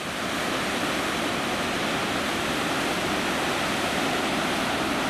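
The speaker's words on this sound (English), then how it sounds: "This is definitely the main fork of the river." Steady, dense roar of a river rushing at its main fork on a mountain hike. The broadband wash stays loud and unbroken throughout, close by, with no voices.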